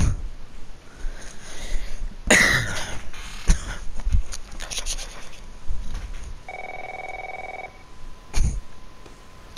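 A telephone rings in The Last of Us, a short electronic ring tone sounding once near the end amid faint footsteps, rustling and breathy sniffs in a quiet room.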